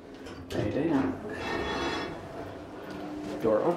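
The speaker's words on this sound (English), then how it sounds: "Door opens when it feels like it." A Schindler 330A elevator door slides open in a university building, a soft mechanical rumble and whir lasting a few seconds, with faint background noise.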